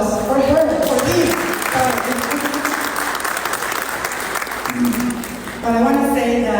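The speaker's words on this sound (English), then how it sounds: "A round of applause for her, for this." A crowd applauds the Dominican vice minister at the official opening of the second Dominican Week in Jamaica, 2024: loud, sustained clapping, with a voice speaking over it at the start and again at the end.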